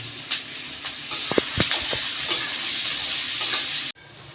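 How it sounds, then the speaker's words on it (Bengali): Onions frying in oil in a home kitchen pan, a steady sizzle and hiss with a few sharper crackles and scraping stirs in the middle, ending abruptly as the sound quiets. "পেঁয়াজটা লাল লাল করে ভাজা হয়ে গেছে"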